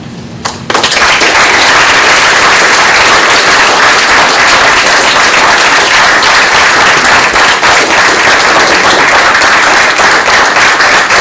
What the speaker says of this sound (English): had to wait for the applause, but you got all the way to the back row.